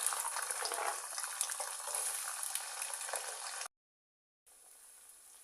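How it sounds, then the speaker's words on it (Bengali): Whole garlic cloves with panch phoron frying in hot oil for an olive pickle: a steady, close, bright sizzle and crackle that cuts off abruptly, then returns faintly. "রসুনগুলো আমি দেড় দুই মিনিটের মতো ভেজে নিয়েছি"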